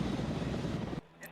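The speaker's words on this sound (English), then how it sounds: "default feedback you'd hear in a chopper" Helicopter cabin noise from the Arma 3 video game: a steady, loud rotor-and-engine drone with dense low rumble that drops away abruptly after about a second, leaving faint hiss.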